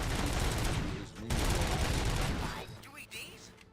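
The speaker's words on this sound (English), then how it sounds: "Gunshots? What's going on?" Gunfire in RoboCop: Rogue City rattles in rapid bursts, loud and close at first, then thinning into sparser shots and fading echoes, with a voice speaking over part of it.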